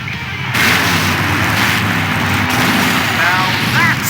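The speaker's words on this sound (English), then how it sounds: "Now that's an explosion, ladies and gentlemen." A loud explosion roars in the Full Throttle video game, a sudden blast that swells into a sustained, rumbling wash of noise lasting several seconds.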